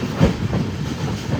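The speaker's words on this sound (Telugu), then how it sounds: "గొల్లప్రోలు రైల్వే స్టేషన్ లాగిందండి మన బండి" A train pulls into Gollaprolu railway station with a low, steady rumble and a few soft clickety-clack beats, close and continuous for a brief moment.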